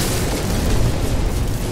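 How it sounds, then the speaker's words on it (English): Missiles launching and exploding in the space combat of No Man's Sky, a dense, continuous rumble of deep booms that holds steady and loud for under two seconds. "Fire the missiles!"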